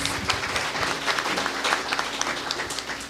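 Steady crowd applause at the closing ceremony of an international history congress, welcoming a historian to speak, even clapping at moderate level throughout with no break.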